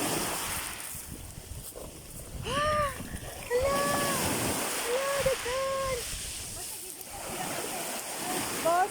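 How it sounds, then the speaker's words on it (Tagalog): Rough, choppy sea waves wash in a steady, broad roar that swells slightly at moments, with voices calling over the surf. "parang ang pangit talaga ng dagat ngayon kasi maalon"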